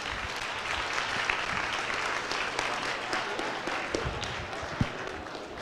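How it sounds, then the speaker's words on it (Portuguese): Audience applause at a typography and editorial design debate event in Brasília, a steady wash of clapping from a small-to-medium crowd with a few sharper individual claps and thumps standing out. "Tá aqui para ela uma salva de palmas."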